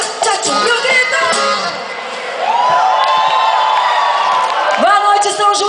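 Crowd cheering and shouting at a São João festival show in São João do Itaperiú, a dense, loud roar of whoops and yells sustained throughout, swelling near the end.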